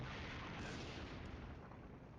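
Dense, rumbling battle fire from the wargame Flashpoint Campaigns, a sustained wash of booming noise that fades slightly toward the end with no talk over it.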